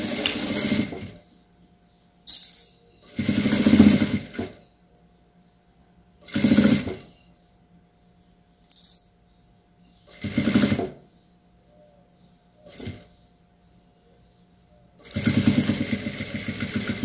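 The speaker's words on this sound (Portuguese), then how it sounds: "E nós vamos passar agora uma costura aqui, ó, de fora a fora." A sewing machine runs a seam across a child's bootie in short, intermittent bursts of buzzing stitching, close by, with silent gaps and a longer final run.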